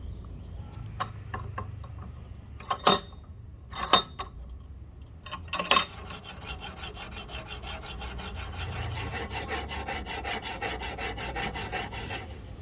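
A steel file sharpening an axe edge: a few sharp metallic strokes and clinks, then a steady run of quick rhythmic rasping strokes close by, with no talking.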